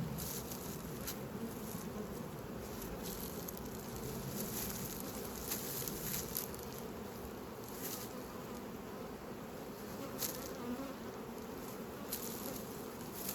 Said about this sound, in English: A lot of bees, a lot of bees.